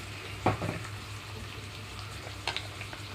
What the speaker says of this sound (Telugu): కట్ చేసి పెట్టుకున్న టమాటో మొత్తం వేసేస్తున్నాను